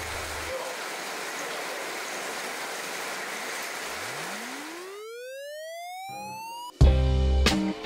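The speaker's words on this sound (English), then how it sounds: "It totally set the scene before we were welcomed with the Chikmagaluru rains." Steady broadband rain falls in Chikmagaluru, a constant hiss throughout, while a rising whistle-like tone sweeps upward midway and a loud harmonic burst cuts in near the end.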